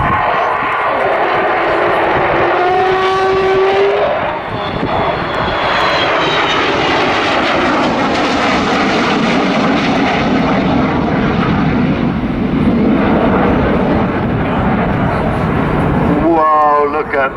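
An Avro Vulcan bomber makes a pass at an airshow, its jet engines giving a loud, sustained roar that rises and shifts in pitch as it flies by, with a commentator talking over it.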